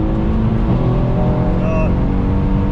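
A tuned 630 bhp Mercedes C63 AMG pulls hard with a loud, steady engine roar that rises slightly in pitch, heard close up from inside the car.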